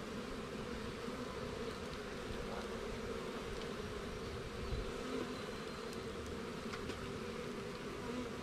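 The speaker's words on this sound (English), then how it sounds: "box has a lot fewer bees in it than the other one" Honey bees buzz in a hive box during spring cleaning, a continuous dense hum at low, even loudness with small rustles from the hive over about eight seconds.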